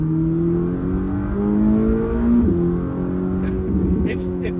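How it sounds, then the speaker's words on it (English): A 1,064-horsepower turbocharged car accelerating hard, steady engine drone climbing through the gears with a shift in the middle, turbos whistling on top, heard from inside the cabin. "those turbos just whistling"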